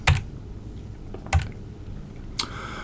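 A few sparse keystrokes on a computer keyboard, close and crisp, three separate taps spread over a few seconds against a quiet room, with no speech.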